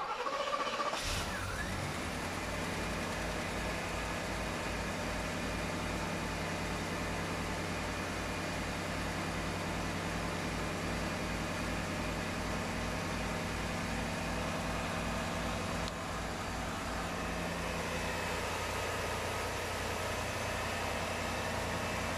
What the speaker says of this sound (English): Only way to find out is to test to start up the engine with the new belt.